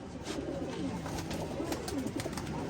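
Pigeons coo and murmur steadily inside a loft, several birds calling over one another in a continuous soft, burbling chorus close by.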